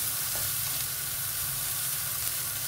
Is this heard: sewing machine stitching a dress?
no